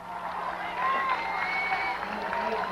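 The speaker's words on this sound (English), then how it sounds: "That was Joanne Ernst going out of here with a big cheer." A crowd at the 1985 Hawaiian Ironman World Championship cheers and applauds as Joanne Ernst leaves the transition area, a distant, moderate swell of voices and clapping with talk over it.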